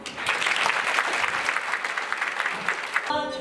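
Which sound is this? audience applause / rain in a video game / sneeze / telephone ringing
audience applause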